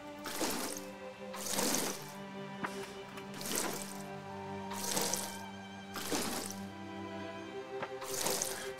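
Plants being watered in the farming video game Fae Farm: soft splashing pours repeat at a steady rhythm, roughly every second, over light background music.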